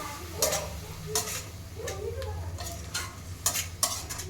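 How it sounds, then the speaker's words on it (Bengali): Fish pieces being mixed by hand with a little water and spices for a Bengali rohu curry with cauliflower, giving soft wet squelching strokes in irregular bursts over a low background hum, close and moderately quiet. "সামান্য পরিমাণে একটু জল দিয়ে দেব জলটা দিয়ে ভালো করে আমি মাখিয়ে নিচ্ছি"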